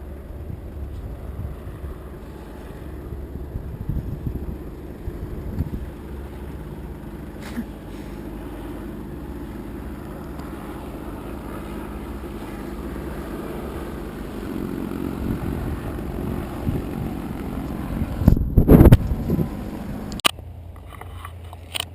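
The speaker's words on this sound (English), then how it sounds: "The Zeppelin flying over Alpha Charlie." A Zeppelin airship passes overhead near Friedrichshafen Airport, giving a steady, low engine drone that lasts throughout, with a rough, gusty rumble close by near the end.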